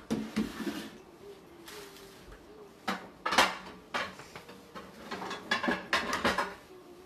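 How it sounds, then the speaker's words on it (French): Clattering of a multicolored ceramic baking dish, like a lasagna pan, being pulled out and set down in a home kitchen while making spinach noodles; several short, close knocks and clinks spread over a few seconds, with no talking. "On se prend un plat de cuisson, comme ça, comme pour les lasagnes."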